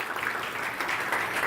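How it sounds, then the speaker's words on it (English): Meeting audience applauding a district zone reset committee, a steady wash of many hands clapping at moderate level for a short stretch, with no talk over it. "Could you all give yourselves a big round of applause?"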